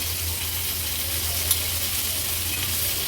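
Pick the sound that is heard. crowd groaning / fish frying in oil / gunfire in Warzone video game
fish frying in oil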